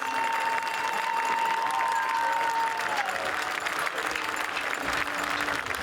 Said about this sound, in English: So let's show them some Seahawks love with another round of applause.